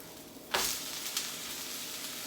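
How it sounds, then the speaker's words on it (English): An omelette wrapped around a tortilla sizzles steadily in a pan over medium heat, with a soft crackling hiss, a brief louder burst near the start and a faint scrape afterward. "now we're just going to cook that tortilla and the rest of the egg for another 30 seconds or so on medium heat"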